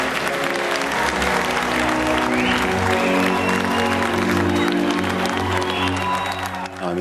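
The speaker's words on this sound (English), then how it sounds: "they applaud you and they say thank you" Diners in Marco Pierre White's restaurant hall applaud the chef, a steady, dense wash of clapping from a full room that carries on throughout with a low murmur of voices beneath.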